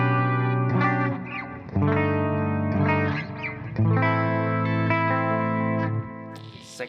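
Charvel Angel Vivaldi electric guitar on its bridge humbucker with a clean, JC-120-style tone, played as sustained chords and arpeggiated notes with a light chorus shimmer, moderately loud and steady throughout.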